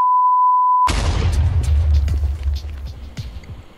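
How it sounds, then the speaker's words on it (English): A loud explosion in a block-building video game, a sharp boom after a steady electronic beep, followed by rumbling debris that fades away over a few seconds. "These blocks weren't affected by the explosion."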